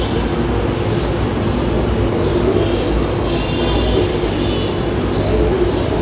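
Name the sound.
prawns sizzling as they are put into hot oil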